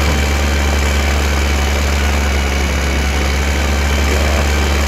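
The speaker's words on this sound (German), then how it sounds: "ich bin ja mit meinem Traktor, das ist mein langsamster Traktor" The slowest tractor in the farming game Landwirtschafts-Simulator 2015 idles with a loud, steady, low mechanical drone and vibration, unchanging from start to finish, with no voices.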